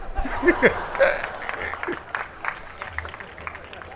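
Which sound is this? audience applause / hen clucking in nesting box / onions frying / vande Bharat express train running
audience applause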